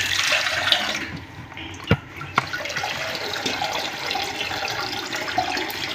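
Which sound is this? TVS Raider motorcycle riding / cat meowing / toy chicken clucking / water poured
water poured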